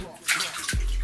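A Moto G smartphone drops into water with a short, close splash and burbling. A voice briefly sounds nearby.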